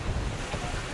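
Strong ocean waves rush against a sailing boat making about six to seven knots, heard as a brief, loud wash of surf and wind buffeting the microphone.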